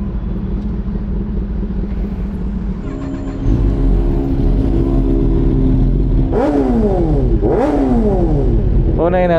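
Honda CBR1000RR-R Fireblade exhaust idles with a deep rumble, then snaps through several sharp, loud throttle revs that rise and fall near the microphone.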